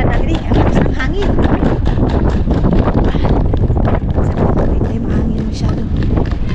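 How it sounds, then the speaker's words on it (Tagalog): Strong wind buffets the microphone with loud, continuous rumbling gusts, nearly drowning out faint voices in the background. "Ang lakas ng hangin."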